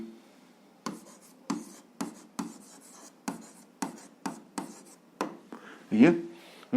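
Pen writing out an algebra exercise on paper, a series of distinct scratchy strokes in an irregular rhythm, close and fairly clear, with a brief voice near the end.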